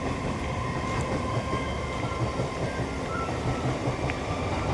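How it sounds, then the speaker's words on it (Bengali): A train rumbles past nearby, a steady, dense roar of wheels and carriages that holds for the whole stretch with no break and no voices. "ট্রেন যাচ্ছে।"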